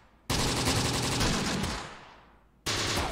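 Gunfire in the war game Close Combat: The Bloody First, a loud sustained volley of shots that tails off into a fading rumble before another burst erupts near the end, with no voices.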